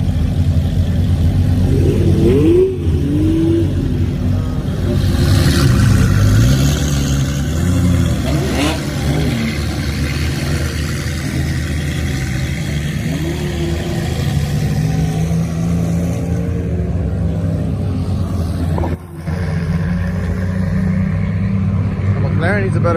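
A Ferrari and other cars, including a McLaren, rev their engines in a rev-off at a car show, with loud, continuous engine drone and rising revs amid crowd chatter.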